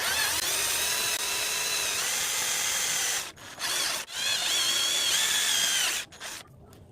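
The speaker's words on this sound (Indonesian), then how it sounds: "Oke, saya akan bor." Power drill enlarging a small hole to fit a cable gland while assembling a Bluetooth USB MP3 module, a loud steady whine running for about three seconds, then short bursts with brief pauses and a final quick spin.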